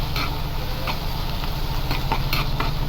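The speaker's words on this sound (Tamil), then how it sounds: "கொஞ்சம் நல்லாவே ஃப்ரை ஆகட்டும்" Ridge gourd frying in a pan for thokku, a steady close sizzle with soft stirring scrapes and light ticks throughout, no talking.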